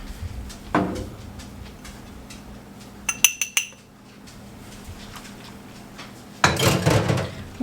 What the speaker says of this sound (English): We're just going to mix this until it's well combined.